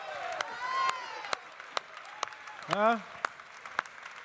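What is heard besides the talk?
audience applause at coffee festival award ceremony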